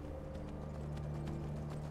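Horse hooves clip-clop steadily at a riding gait in the video game Skyrim, a continuous rhythmic patter that is moderately loud over a constant low game ambience hum.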